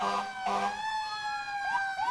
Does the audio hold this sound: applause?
no